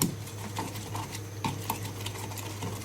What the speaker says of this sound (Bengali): এটা দিয়ে লবণ দিয়ে ভালো মতো করে ছেঁচে নিলে